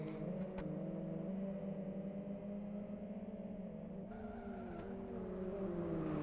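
Formula 1 car in the Live for Speed racing game, a sustained high-revving engine whine with shifting pitch and a brief gear-change drop midway, loud and steady throughout.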